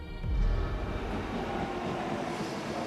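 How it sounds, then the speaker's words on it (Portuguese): A Japanese bullet train rumbles steadily, with a loud low rush swelling at the start and then a continuous rolling roar, no talk. "Para chegar lá são 2 horas de trem-bala."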